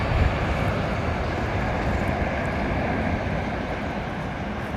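Airliner jet engines roar at London Heathrow Airport, a loud, steady broadband rumble that holds evenly throughout with no voices.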